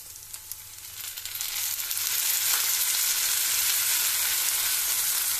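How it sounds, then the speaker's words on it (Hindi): Tomato paste hits frying onions in a pan for masala bhindi, setting off a steady, close sizzle that swells louder after the first second and holds as an even crackling hiss with no talk. "अब मैं उसमें टोमेटो की पेस्ट डाल रही हूँ।"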